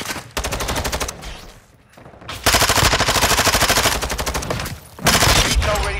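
Automatic gunfire in the Call of Duty: Modern Warfare II multiplayer video game, loud rapid machine-gun bursts, one short burst then two long sustained strings separated by brief pauses.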